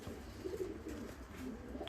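Fancy and costume pigeons coo softly in a loft, a few low, murmuring calls rising faintly over a quiet background.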